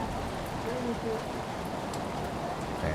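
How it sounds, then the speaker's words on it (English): Heavy rain pours steadily during a women's college soccer semifinal between Seattle Pacific and Simon Fraser, a dense, constant hiss filling the whole moment with a faint voice barely audible beneath it. "we didn't think the rain could kick it up another notch, and then it went and did"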